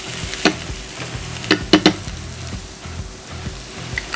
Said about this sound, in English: we start off with your onions going in. We start cooking those out.